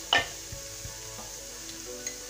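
Onions fry in a pan for pastilla, a faint sizzle opening with a sharp clatter, then light taps scattered through.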